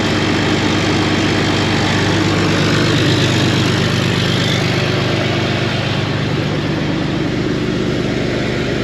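A tractor engine idles loudly and close by with its PTO running, a dense, constant mechanical drone that holds steady throughout.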